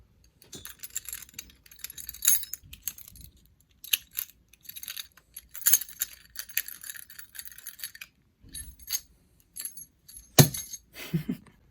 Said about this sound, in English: And not only did I use my house key, but I also used this Gengar pendant that I have.